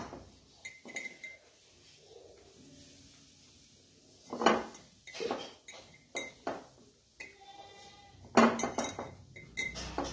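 Red chillies are set into a glass pickle jar, with scattered clinks and taps of glass and light knocks spread across the stretch, some louder clusters, close and quiet with no talking.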